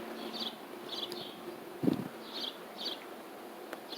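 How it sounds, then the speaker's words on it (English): Bees and yellow jackets buzz close by in short passes in a summer garden, their drone swelling and fading repeatedly over outdoor background noise. "Hopefully there's not as many bees, yellow jackets."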